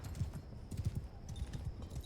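Horse hooves clip-clop steadily up stone steps in the video game Eagle Rising Spartacus, a quick, even trotting rhythm heard fairly quietly.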